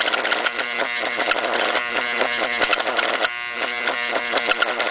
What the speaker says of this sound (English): So we got some motor failure going on here.